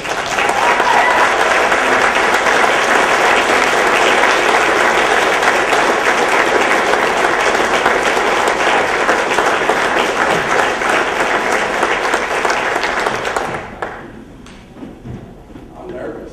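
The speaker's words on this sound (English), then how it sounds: "Big round of applause for Mr. Ben Beeler." A standing audience gives a loud, sustained round of applause for speaker Ben Beeler at a Success Saturday event, dense clapping lasting over thirteen seconds before cutting off into quieter room noise.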